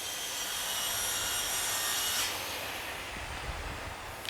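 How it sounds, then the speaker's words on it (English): Steady rasping of a saw cutting wood outdoors at a neighbor's, continuous and moderately distant, with a faint shift in tone partway through; no voices. "Every time I do, they start sawing something."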